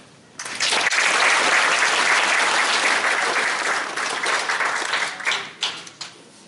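An audience at an annual meeting bursts into loud, sustained applause for election candidates, holding steady for several seconds, then thinning into scattered claps before fading.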